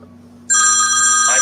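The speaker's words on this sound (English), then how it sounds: "Oh, somebody's phone's ringing." A mobile phone rings loudly and close by, its bright electronic tone starting abruptly and holding steady after a near-silent moment with a low hum beneath.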